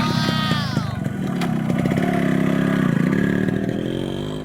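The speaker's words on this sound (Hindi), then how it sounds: "कई बार कोशिश करने पर बाइक स्टार्ट हो जाती है।" A motorcycle, push-started by a constable in an animated Hindi story, sputters and catches, its engine clattering into a mid-pitched running drone with faint chirpy background tones early on.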